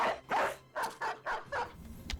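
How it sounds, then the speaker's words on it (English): A dog in a company-building video game gives about six short barks and yips in a steady, evenly spaced rhythm, close and clear with no one talking over them. "I'll drop a dog here."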